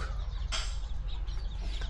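Backyard chickens clucking softly and intermittently, fairly close, over a low steady background hum.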